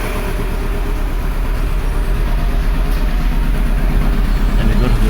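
A 1995 Mercedes Model 210 engine idling with a persistent misfire, running rich, a loud, steady rough idle with a rhythmic uneven pulsing throughout and no talk.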